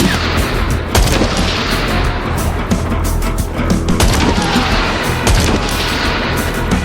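Explosions and gunfire from destroying a mortar in the video game Dying Light: The Beast, a dense, loud barrage of booms and shots running continuously with sharper blasts near one, four and five seconds.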